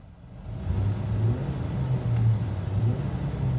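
A 2018 Ford EcoSport SES 4WD compact SUV's 2-liter inline four-cylinder engine runs with a steady low rumble heard from the driver's seat, swelling slightly as it settles into a continuous drone.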